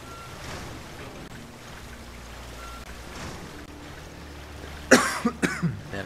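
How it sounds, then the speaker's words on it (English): A person coughs in a quick burst of about four or five harsh, close coughs near the end, after a stretch of low background ambience. "I don't know why I'm coughing so much."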